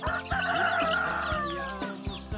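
Several native chickens on a farm cluck close by in quick, repeated bursts, with soft rhythmic thumps beneath the calls and no talking.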